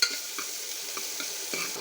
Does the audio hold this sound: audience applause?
no